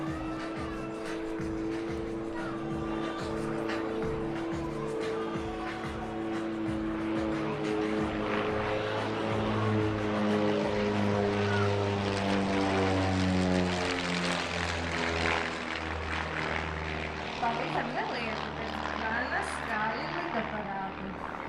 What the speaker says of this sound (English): The standard RV-8 comes with a tail wheel, whereas the RV-8A you see here has tricycle undercarriage.